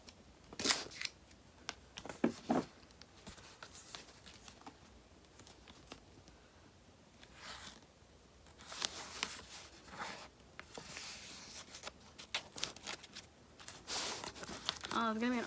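Painter's tape is pulled off the roll, torn and pressed along the edges of a book-art piece, giving intermittent crinkling rips and soft taps, close and fairly quiet.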